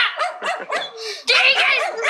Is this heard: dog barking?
yes